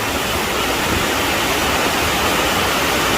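Sai Yok Noi waterfall in Kanchanaburi, Thailand, gives a steady, loud, close rushing roar of falling water that runs unbroken throughout, with no voices.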